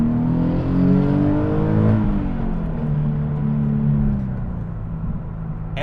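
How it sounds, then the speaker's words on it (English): Engine of a Nissan 370Z revving through a rev-matched downshift, a loud, close, continuous drone with pitch rising and falling over several seconds and no talking. "One of my all-time favorite features in this car is the automatic rev match"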